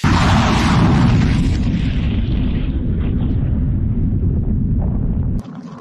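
A missile launch fired by Iran's IRGC toward Israel, heard as a loud, sustained roaring rumble with a broad hissing blast that slowly thins out over several seconds before cutting off abruptly near the end.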